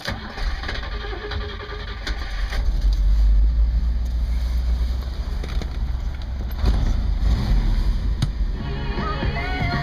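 A 1964 Buick Riviera engine idles without throttle input, giving a deep, steady low rumble that stays close and consistent with a faint mechanical whine layered above it.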